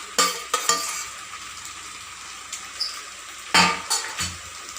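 Stirring red veggie pasta ingredients in a frying pan, with a spoon scraping and clinking against the metal in a few clustered bursts over a soft continuous sizzle, close and without speech.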